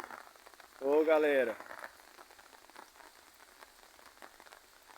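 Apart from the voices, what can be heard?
light afternoon rain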